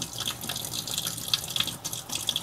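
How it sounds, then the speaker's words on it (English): Water runs from a sink faucet during hand washing, a close, steady hiss with light splashing and dripping as hands move under the stream. "I'm gonna go ahead and turn on our sink here with not my hands."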